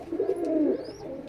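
Breeding pairs of pigeons coo up close in a low, continuous, rolling murmur, with a faint chirp above.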